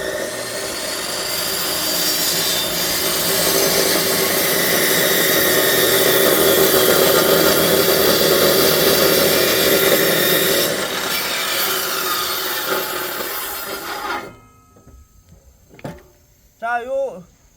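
An electric wood cutter with a rewound motor coil saws through firewood at a country house, a loud, steady grinding whine that runs for about fourteen seconds and then stops, followed by brief voices.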